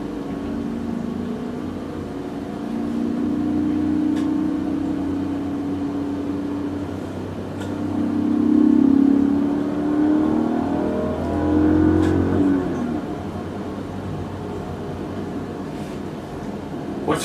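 An E39-generation BMW M5 accelerates repeatedly on a motorway, the engine note heard from inside the cabin swelling and falling through several strong pulls and gear changes, with no voices over it.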